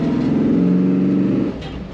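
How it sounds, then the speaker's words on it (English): A 1964 Ford Galaxie 500 fastback's engine hums loud and close with a deep, throaty exhaust rumble, holding steady before easing off slightly near the end. "Throaty exhaust. Sounds very good."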